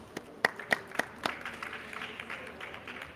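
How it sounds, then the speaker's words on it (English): A small audience at a UNCCD COP16 panel session gives brief, faint applause: a few sharp claps at first, then a thin, scattered patter that trails off. "Let's give them a round of applause."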